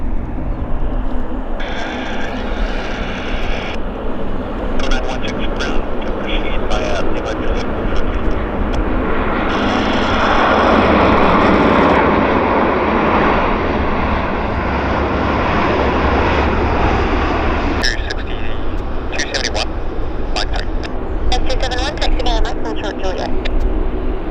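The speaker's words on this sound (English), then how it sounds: "Okay, Q400 landing, so I'll very gently bring the camera around for the Q400." A De Havilland Q400 turboprop airliner lands at Vancouver airport, its broad engine roar steady and fairly loud throughout, swelling in the middle, with radio chatter and talk over it.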